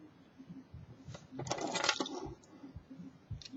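Handcuff keys jangle and clink in a hand, a short metallic rattle peaking briefly near the middle, close and fairly quiet against a faint background.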